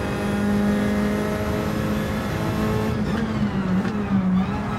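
A race car engine in Gran Turismo 7 drones loudly and steadily, holding a high rev tone. Near the end the pitch drops and wavers briefly before it climbs again. No voices are heard.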